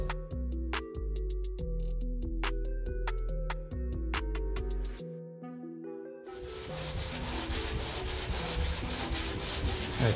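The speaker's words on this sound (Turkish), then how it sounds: "Şimdi takoz zımparasıyla bunu ortaya çıkaracağız." Sanding block rubbing over painted car body panels of a BMW E39 530d, a continuous harsh abrasive scrape that starts after some musical tones, close and steady.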